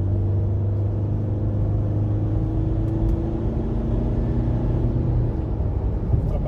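Car engine on the BR 222 highway near Forquilha, Ceará, holding a steady mid-pitched drone and rumble during a quick overtake, loud and continuous from the cabin, with no talk.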